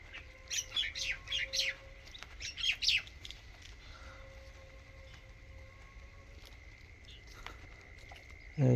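A small tailorbird chirps in quick bright bursts across a quiet village field, the sharp tweets clustering early then trailing off against faint background hum, with a distant bird call and a brief thump at the end.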